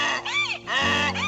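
A donkey in a village tale brays loudly and close, two long wavering harsh calls in quick succession.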